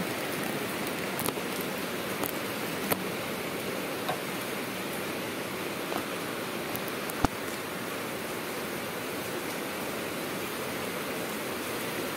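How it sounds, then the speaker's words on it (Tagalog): Heavy rain pours steadily in a dense, even hiss, with a few sharper drips and taps standing out close by. "Lakas ang ulan."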